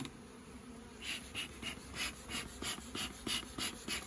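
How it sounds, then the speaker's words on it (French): Honey bees buzz in a steady drone with pulsing swells at an open hive in Auvergne, fairly close, alongside soft rhythmic breathing-like puffs from a beekeeper's smoker. "Les abeilles sont bien là."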